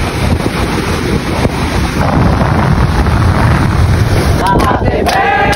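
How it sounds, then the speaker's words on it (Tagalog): Strong sea waves surge onto the shore at Cabadbaran, Agusan del Norte, a loud continuous rush with heavy wind buffeting the microphone throughout. "Ang lakas ng alon, boy."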